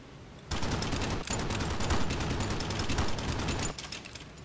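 Waist guns on a B-17 bomber fire in sustained rapid bursts during a flight-combat video game mission, a loud rattling fusillade starting abruptly and continuing for a few seconds before cutting back to engine drone.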